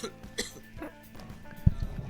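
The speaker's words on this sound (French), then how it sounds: "Ça doit casser les oreilles quand je tousse" A single short cough from a commentator at a Super Smash Bros. Ultimate tournament, a brief dry burst amid quiet room noise and faint background voices.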